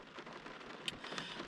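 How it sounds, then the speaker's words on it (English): Steady rain falls outdoors near a garage where a highly modified 5.7 Hemi R/T is being dyno tested, a soft even hiss with a few faint drop ticks. "It's raining though"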